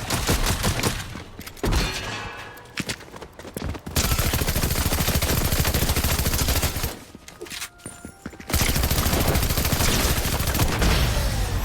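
Dense bursts of automatic gunfire fill a Fortnite match on the Simpsons map, rapid loud shots running in long stretches with brief gaps and a couple of heavy thuds between volleys.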